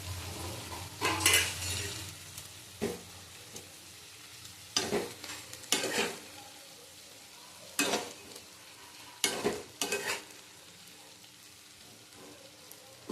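Radish greens with salt and turmeric stir-fry over low heat, a soft sizzle broken by a few sharp, close spatula scrapes and clatters against the pan at uneven intervals.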